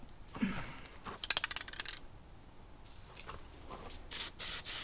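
Rattle-can spray paint hisses in several short bursts close by, with a rattling can shake and a few clinks between sprays.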